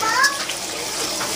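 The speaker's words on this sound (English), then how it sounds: "She's washing the rice." Rice being washed by hand in a bowl of water while making Dominican rice and beans gives a short burst of sloshing and swishing, followed by steady running water.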